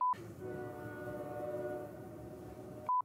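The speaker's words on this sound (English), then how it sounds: "Can you all hear the train?" Outside, a train rolls past with a steady, droning rumble and a horn, continuous and fairly loud for a few seconds, with short tones at the start and end.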